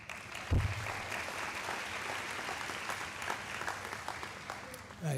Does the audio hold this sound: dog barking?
no